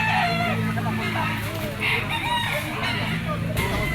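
A yellow-legged SBR bull stag gamecock crows among other roosters at a market, with repeated crowing and clucking over steady crowd noise and a low background hum.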